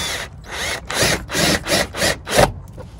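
A ratchet wrench works a part on a Camaro in fast bursts of clicking, about six rapid ratcheting strokes close to the mic, with brief pauses between strokes and no talking.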